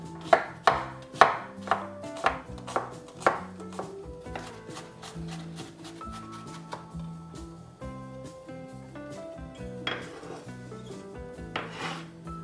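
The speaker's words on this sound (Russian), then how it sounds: "Лук нарезаю мелко." A knife finely chops an onion on a board with a quick run of sharp, evenly spaced cuts, then slower, softer strokes, all close and clear over light background music.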